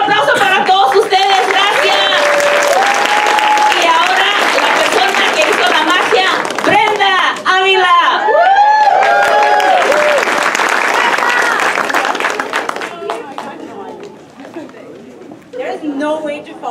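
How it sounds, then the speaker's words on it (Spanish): A crowd at a rally claps together loudly and steadily, with voices calling and cheering over the applause, which thins out and fades near the end. "Un aplauso para todos ustedes."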